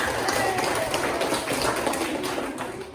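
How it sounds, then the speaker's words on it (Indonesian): A classroom of pupils clapping for a classmate, a continuous, loud, dense patter of hands throughout with some background voices. "Tepuk tangan dulu Pak Galuh."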